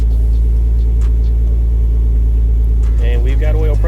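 Nissan R34 GT-T engine idling with a steady deep rumble, then revving briefly near the end, close up, with a person talking over it.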